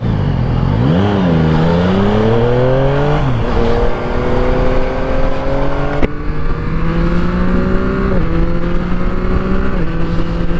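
A 2024 Yamaha MT-09 SP motorcycle rides the repaved Tail of the Dragon road, engine droning loud and close, revs rising and dropping through gear changes with wind rush throughout.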